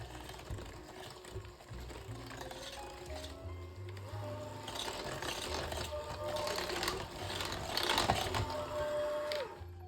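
An electric mixer whirs and rattles as it beats oil and two eggs for pumpkin bread batter, a steady buzzing motor with irregular clicks and spatters that grows a little louder toward the end.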